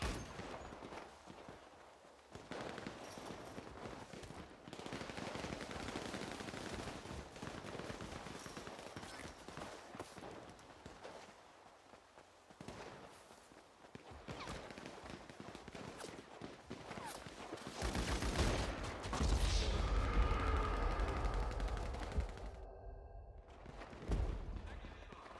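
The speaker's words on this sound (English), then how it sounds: "Miniguns on here." Minigun fire in the GTA video game, sustained bursts of rapid automatic gunfire that swell louder near the end, with players talking over the action.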